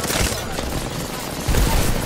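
Bursts of rapid gunfire in an online team shooter game with care package drops, loud and dense against steady game noise, with a heavier volley near the end.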